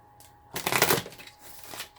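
Tarot cards being shuffled during a pick-a-pile reading: a short burst of crisp riffling and flapping paper lasting about half a second, then softer rustling as the deck settles, close and alone without talk.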